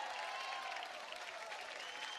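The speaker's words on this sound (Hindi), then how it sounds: "एक बार अनिल कपूर साहब के लिए जोरदार तालियां" Audience members at a comedy show clap for Anil Kapoor in a steady, unbroken burst of applause, fairly faint and distant-sounding but consistent throughout.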